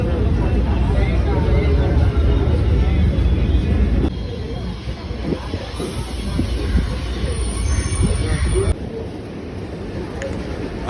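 Steady rumble of an elevated suburban MRTS train running on track in Chennai, loud and continuous, with a voice talking over it throughout.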